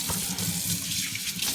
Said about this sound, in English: But I'm draining off the little excess water that is in the bowl.